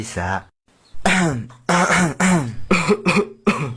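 A burst of harsh coughing and throat clearing, loud and close, repeating in quick rough bursts after a short pause.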